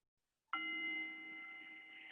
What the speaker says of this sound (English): You're going to hear a gong.